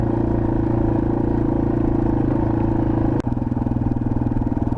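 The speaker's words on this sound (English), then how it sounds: "Rides like this is why I wanted to get another dirt bike." A 2021 Yamaha TW200 dirt bike ridden on a forest trail, its engine droning steadily and loud up close with a rhythmic thumping pulse, a brief dip and shift partway through.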